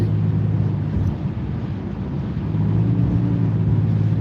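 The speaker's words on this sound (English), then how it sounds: "You can also hear the sound of the motor." A car engine with a free-flow exhaust drones steadily while driving at highway speed, with a low, continuous rumble and road noise and no talking.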